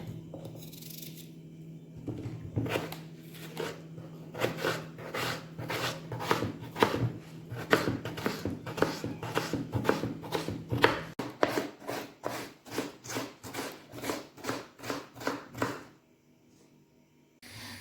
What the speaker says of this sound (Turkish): Onu doğruyoruz ufak ufak, küp şeklinde.